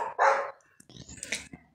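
A neighbour's dogs bark outdoors, one loud close bark followed by fainter, more distant yips and barks scattered across the rest of the moment.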